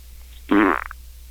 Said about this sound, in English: Another fart.